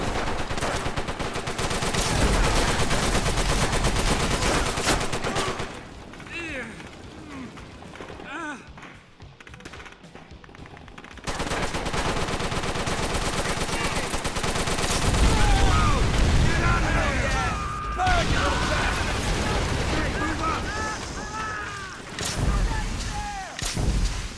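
Machine gun fire and explosions boom through a World War II shooter game battle, with sustained bursts of gunfire, heavy thuds and a brief lull midway, loud and dense throughout.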